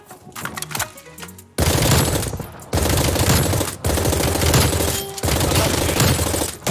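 Rapid automatic gunfire in the video game Warzone, loud sustained bursts of machine-gun fire in several long strings separated by short breaks, after a quieter opening with scattered shots.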